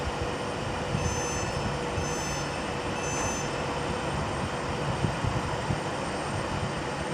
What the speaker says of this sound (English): also coming in is going to be 390-050, working the 13:17 Avanti West Coast service from Glasgow Central to London Euston